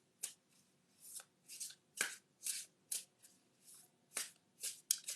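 Tarot cards are shuffled in a steady series of crisp riffling bursts, about ten quick flutters, close up with no talking.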